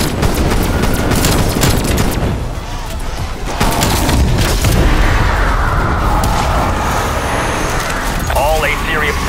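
Frag grenade blasts and gunfire in the Call of Duty Cold War zombies mode, loud and dense with continuous booming and rattling shots, while game voices talk over the din.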